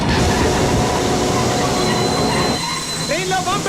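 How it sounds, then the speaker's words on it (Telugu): The Visakha Express rumbles loudly along the platform at the station, with dense wheel noise and high squealing tones rising toward the end, while voices speak over it. "3వ ప్లాట్ఫామ్ మీద నుంచి బయలుదేరిన విశాఖ ఎక్స్ప్రెస్"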